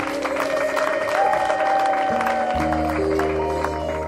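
A crowd claps and ululates for bride and groom Didas and Gloria at a church wedding with a pastor, a steady burst of applause with sustained high trilling tones above it and no break.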